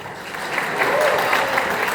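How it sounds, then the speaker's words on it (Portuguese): A crowd at a university event breaks into applause, a brief, dense patter of many hands clapping at steady volume with a murmur of voices underneath. "Salve de palmas pra grana!"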